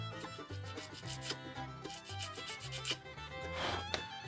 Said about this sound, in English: I'm gonna just sand it a little bit